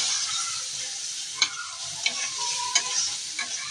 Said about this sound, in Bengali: এদিকে আমি শাকের জন্য মশলাটা কষিয়ে নিচ্ছি। আর এদিকে আমি মাছটা একটু কষিয়ে নেব